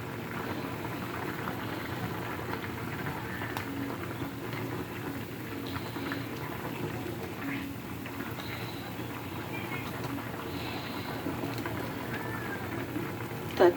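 Potatoes boil in a pot on the stove while a tengra fish curry with tomato is being cooked, giving a steady, low, continuous bubbling that stays fairly quiet throughout.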